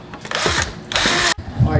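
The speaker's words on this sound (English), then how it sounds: "A very small drill bit." A small power drill with a very small bit whirs in two short bursts close by, starting and stopping abruptly.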